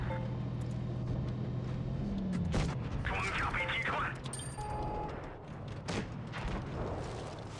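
Tank guns in World of Tanks Blitz fire several heavy booms, scattered through a mix of engine rumble and other game effects, with a player talking over the action.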